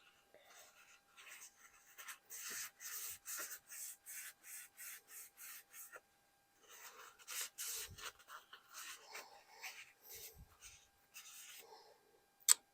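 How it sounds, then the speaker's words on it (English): Rubbing and scrubbing at a rifle barrel nut during a Savage MSR10 barrel swap, heard as repeated rhythmic scraping strokes in two bursts separated by a short pause, fairly close, ending with a sharp click. "We're going to clean it off the barrel nut."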